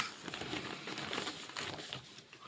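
Plastic zip bag crinkling and rustling continuously as it is handled close by.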